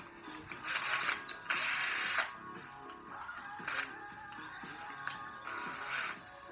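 A cordless power drill driving screws while assembling a stool whirs in several short bursts, separated by brief pauses and faint clicking of the clutch, close by with no talking.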